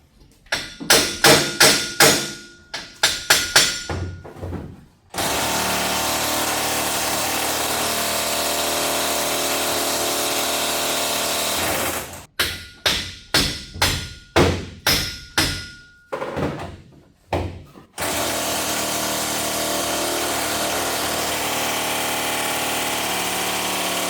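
A power tool drives a black impact socket on a patina GMC truck, firing loud rapid bursts of hammering rattles in two groups, each followed by a long steady whirring run.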